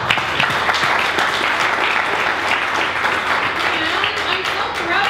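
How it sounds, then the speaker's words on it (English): Audience at an awards ceremony applauding steadily, a dense, continuous wash of many hands clapping that holds at full strength throughout, with faint voices mixed underneath. "certainly another round of applause."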